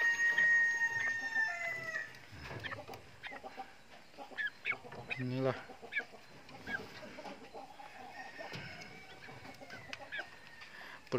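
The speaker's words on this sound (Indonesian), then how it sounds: "Banyaklah ayam diternak dia di sini." Village chickens on a poultry farm keep up scattered clucking and calls at moderate distance, and someone speaks briefly in the middle.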